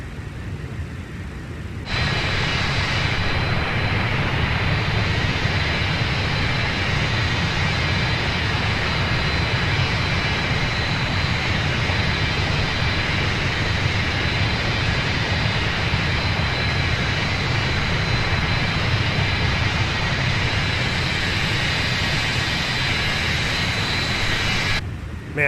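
Simulated MD80 airliner engines in Microsoft Flight Simulator 2020, a steady, loud jet roar that cuts in after a couple of seconds of quiet and holds evenly throughout, with no talking.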